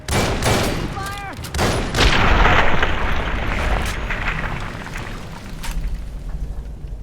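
Gunfire and explosions in Fallout New Vegas, rapid bursts of shots and a heavy blast that rumbles on, with a brief voice and scattered crackling fire continuing underneath.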